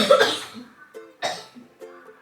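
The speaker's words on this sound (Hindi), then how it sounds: "1-2 बार और खांस तो ज़्यादा बीमार लगे।" A person coughs three or four times in succession, harsh and close, with short pauses between the bursts and no other sound around them.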